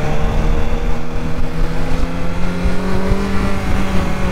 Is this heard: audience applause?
no